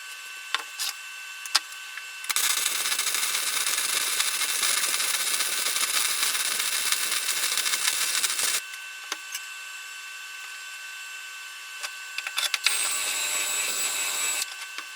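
Cevik PROMIG 200 MIG welder running at a lowered setting: a long burst of dense crackling hiss, a pause, then a shorter second burst, loud and close with no talking.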